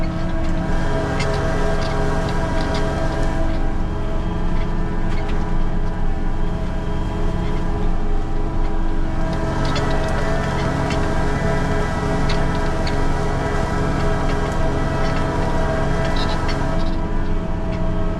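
A tractor engine drones loudly and steadily while ploughing a field for winter wheat, a continuous low mechanical hum with faint rattles on top.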